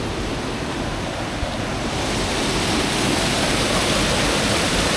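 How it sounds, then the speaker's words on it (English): Water rushes steadily in a small Costa Rican creek with trout pools, a loud, close, continuous broadband flow that swells slightly midway, with no talk. "Stopped off this little creek here."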